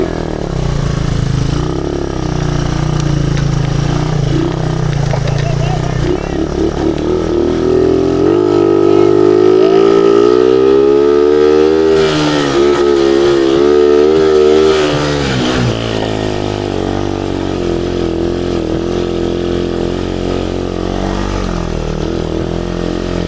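A motorcycle engine runs close by, idling and then revving up through rising and falling pitch before pulling away, loud and continuous throughout.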